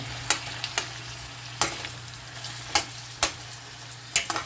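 Tomatoes and vegetables frying in a pan for a Jamaican-style cucumber and saltfish breakfast, a steady soft sizzle punctuated by several sharp clanks of a spoon against the pan at irregular intervals.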